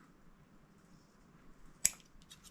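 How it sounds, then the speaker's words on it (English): Scissors trim the ends of a zipper for a wide-mouth zipper bag, giving one crisp, close snip after a quiet pause, followed by a few faint smaller clicks. "So I'm just going to take my scissors and trim this back up."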